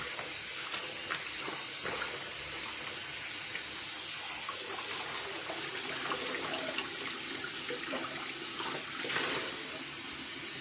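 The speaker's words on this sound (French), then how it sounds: "je vais rincer encore avec de l'eau tiède" Lukewarm tap water runs steadily over a wig being rinsed in a sink, a continuous soft hiss and splash with faint handling taps throughout.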